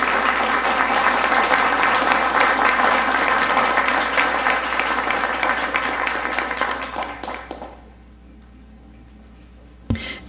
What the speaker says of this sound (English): I'd like to give a round of applause to our men and women